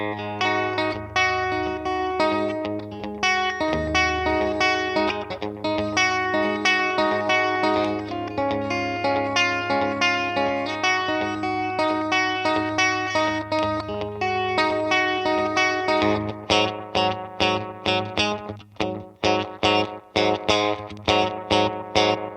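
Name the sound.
electric guitar through DM2 delay pedal with intensity cranked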